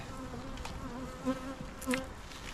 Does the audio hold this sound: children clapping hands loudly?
no